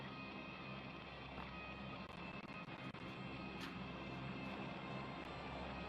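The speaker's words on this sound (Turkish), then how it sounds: "Bir tane daha geliyor uçak" Steady droning engine of an airplane flying over in the PUBG Mobile video game, a continuous broad roar holding level throughout with faint clicks on top.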